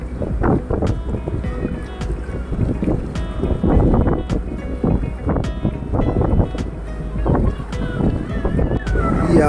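Large tourist boat cruising on a lake near Munnar, with a steady low engine rumble and wind buffeting the microphone throughout, plus scattered sharp knocks and people talking nearby.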